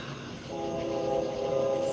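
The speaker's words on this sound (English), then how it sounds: "Do you hear that train?" A distant train heard from a quiet balcony, a faint low rumble joined by a sustained tonal horn-like drone that swells slightly over two seconds.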